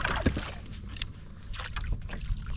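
A canoe paddled against a strong headwind, with irregular watery paddle strokes and splashes under blustery wind noise buffeting the microphone.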